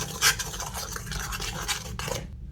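Continuous scraping and swishing of a utensil stirring a mixture of water, flour and dry yeast in a bowl, close up, ending abruptly.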